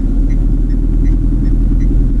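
A car rolls backwards downhill in neutral with the brake released on a mountain road near Lamayuru, Ladakh, heard as a steady, loud low rumble of tyres and body noise with no revving.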